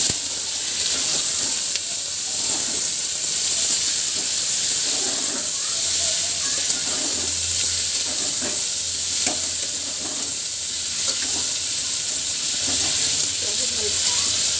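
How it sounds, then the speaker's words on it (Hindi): Sliced onions fry in a pan until reddish, giving a loud, steady sizzle and hiss with occasional stirring scrapes, close and continuous throughout. "पियाज को लाल लाल कर भाजीदेवा।"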